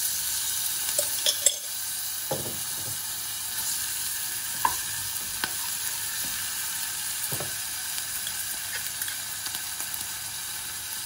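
Garlic and onion fry in a pan with a constant, even hiss of sizzling oil. A few soft stirring knocks and clicks break through now and then, and no one speaks.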